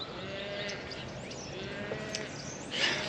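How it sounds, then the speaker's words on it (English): A calf cries out for its mother among a herd of cows near trees, its bleating calls repeating over steady outdoor background noise, with a louder call near the end. "the way that calf is crying and going on"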